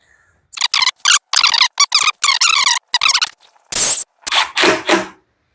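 A power drill driving screws into a scrap piece of wood, close and loud in a series of short whining bursts with brief pauses, then a few longer final runs.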